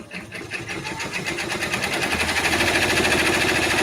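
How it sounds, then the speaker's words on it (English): A multi-needle embroidery machine stitches a placement line for batting on a mug rug, its rapid rhythmic mechanical chatter loud and close, building steadily into a dense, even whir. "it is going to stitch down the placement line for the batting"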